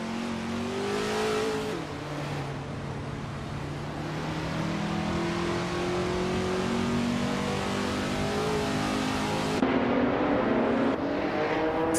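A 2011 Rough RT12R race car engine in a racing video game revs and drones steadily, its pitch rising and shifting through gears, loud and continuous with no talking.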